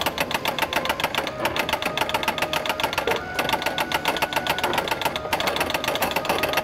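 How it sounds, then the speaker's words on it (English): A solenoid in the bat unit of an old pitch-and-bat arcade game snaps up and down while its spring drives it against a bolt. The result is a fast, steady, close-up mechanical clatter that keeps going without a break. "It's just a solenoid going up and down, and the spring is making it hit that bolt."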